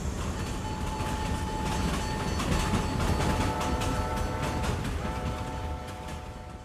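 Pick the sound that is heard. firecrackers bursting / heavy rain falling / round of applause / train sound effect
train sound effect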